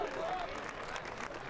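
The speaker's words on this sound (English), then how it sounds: "Nice warm round of applause from the home crowd." Warm applause from the home crowd at a soccer match: steady broadband clapping and crowd noise throughout, with a commentator talking over it.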